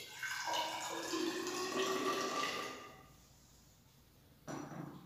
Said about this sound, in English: we will add water in the measuring cylinder for two different samples